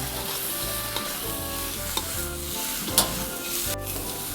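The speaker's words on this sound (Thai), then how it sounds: "เอากุ้งลงไปเลยนะคะ ผัดต่อเลยค่ะ" Shrimp are stir-fried with chili and garlic in a pan, a close, dense sizzle with rhythmic scraping and tapping of the spatula, several sharper clacks standing out, and no one speaking.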